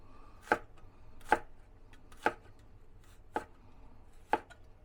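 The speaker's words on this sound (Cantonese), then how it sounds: "咁咧蒜咧，我哋咧都係切片嘅" Garlic cloves being sliced with a knife on a chopping board for ginger and scallion fish belly, five crisp, evenly spaced knife thuds, close and alone against a quiet kitchen.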